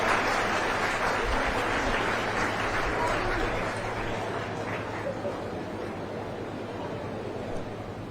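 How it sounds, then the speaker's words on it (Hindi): Loud, sustained applause from a large audience at a ceremony where physics lecturers receive appointment letters from the chief minister, a steady crowd roar that slowly eases off. "जोरदार तालियां एक बार हमारे इन व्याख्याताओं के लिए"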